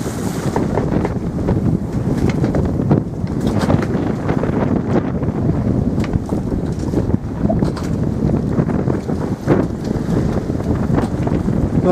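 A gale blows at sea on board a sailing boat after a storm, a constant loud roar of gusting wind buffeting the microphone over rushing waves and water noise.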